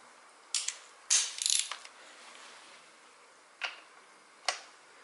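A wrench tightens a spacer against the frame of a ZX-10R motorcycle, producing a few sharp metallic ratcheting clicks and taps in separate bursts, close and quiet between them.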